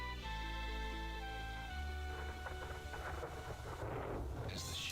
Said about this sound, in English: the storm breaks